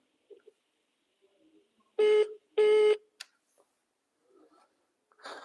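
Two loud, steady telephone line tones sound as a call disconnects, each lasting under a second, with faint ticks and background noise between them.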